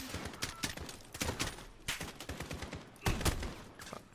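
Rapid bursts of video game gunfire crackle through the whole stretch, with repeated shots and clustered volleys at a steady, loud level, suggesting a fusillade in a combat game.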